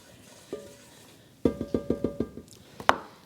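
Melted butter, sugar, salt and pepper being stirred in a pan, heard as a quick run of about eight sharp spoon-on-pan scrapes and clinks, with a couple of isolated knocks before and after.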